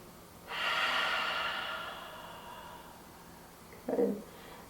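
One slow, deep breath drawn in and gradually let out during a yoga stretch, close and soft, followed by a brief quick inhale through the nose.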